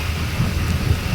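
Heavy rain pours in a hilly area on the road from Vemulawada to Hyderabad in Telangana, with goats grazing nearby. A dense, steady wash of rainfall sits over low rumbling thunder, continuous and close, with no voices.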